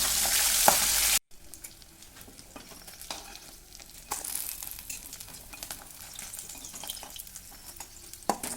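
Katla fish pieces frying in oil crackle and sizzle close by; after a brief loud opening burst the sputtering settles into a steady mid-level fry with occasional sharp pops.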